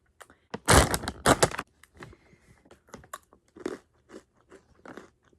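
Dots cinnamon and sugar pretzels crunched and chewed close to the mouth, a couple of loud crackling bites followed by softer irregular chewing crunches, no talking.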